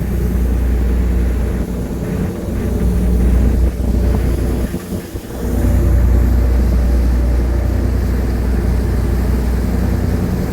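Steady roaring wind buffets the microphone aboard a moving ferry on the Matnog–Allen crossing, Philippines, with the low rumble of the engine and water rushing beneath.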